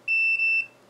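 A multimeter on continuity mode gives three quick high-pitched electronic beeps while probing the circuit of an Icom IC-260A radio, clear and close against a quiet background.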